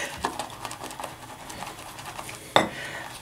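Shaving brush whipping tallow shaving soap into a thick lather in a bowl, heard as soft continuous swishing and wet churning with a few sharper clicks of the brush against the bowl, close and fairly quiet.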